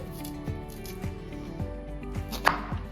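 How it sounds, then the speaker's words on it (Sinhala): Knife cutting onions into quarters on a board, about five evenly spaced chops under low background music. "මම ලොකු ලුණු ටික කපා ගන්නවා හතරට"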